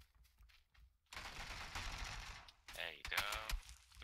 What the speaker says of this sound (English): I'm getting shot at from across.